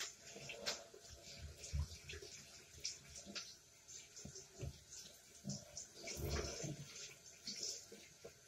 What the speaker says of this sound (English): So after you lathered up, you're going to wash your hair.